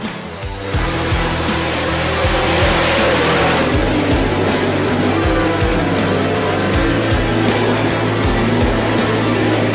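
Sprint cars race on a dirt track, engines roaring loudly and continuously as several cars pass close by with rhythmic pulsing revs and throttle surges.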